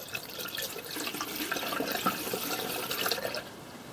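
RV antifreeze poured down a bathroom sink drain while winterizing a Passport 217 travel trailer gives a steady, close rushing and gurgling of liquid that runs unbroken for the whole stretch, with no voices.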